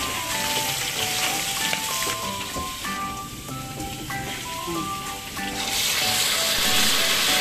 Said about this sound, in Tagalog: kapag magprito po tayo ng tortang talong